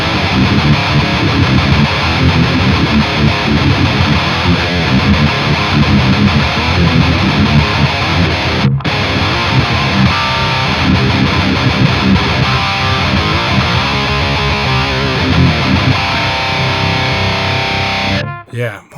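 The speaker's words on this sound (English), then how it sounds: "Just a couple more chugs before we round this up." Heavily distorted electric guitar played through a Line 6 POD XT modelling unit, chugging palm-muted riffs loud and dense for nearly the whole stretch, with a brief break in the middle and an abrupt cut at the end.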